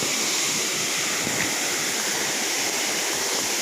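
Laamos Falls waterfall roaring in a steady, dense wash of falling water, loud and continuous with no voices over it.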